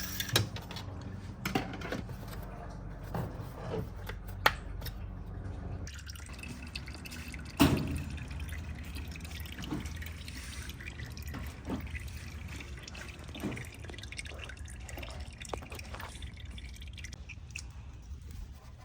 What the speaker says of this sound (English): you guys are going to let the engine oil just flow out and let it drain properly